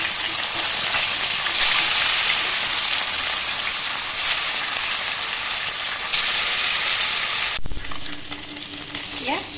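Fish pieces sizzle in hot oil in a wok (kerahi), giving a loud, steady crackling fry with brief surges as pieces are added or moved, then a clatter near the end.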